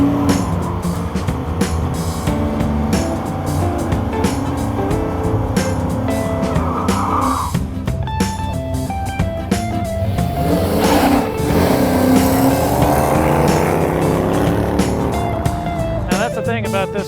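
Race cars at a drag racing track with a loose, low-grip surface, engines roaring and revving continuously with tire squeal and a car passing, loud and close, while people talk over the noise.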